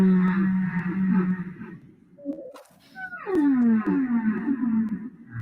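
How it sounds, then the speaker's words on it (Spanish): Humpback whale vocalizations: drawn-out harmonic moans and a sweeping, falling call, separated by a short quieter gap, clear and fairly prominent. "Ese es el de una ballena jorobada"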